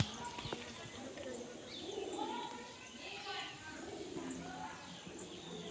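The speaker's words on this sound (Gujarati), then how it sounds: "કબૂતર હતા લાગે." Pigeons coo inside ancient rock-cut caves at Sana Vakiya, soft low repeated calls with light chirps, faint and partly under a man's speech.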